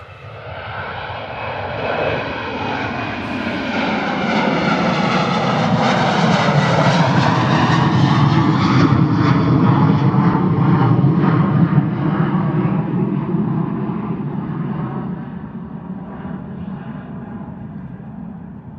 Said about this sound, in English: Two fantastic departures there from Ryanair.